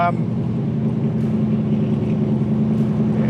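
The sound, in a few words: big block Corvette engine running loudly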